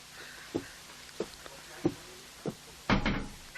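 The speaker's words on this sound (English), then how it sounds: "Hawa, please close the door." A door swinging shut in a classroom, heard as several soft knocks and bumps spread across the moment and ending in a louder thud as it closes, with no talking.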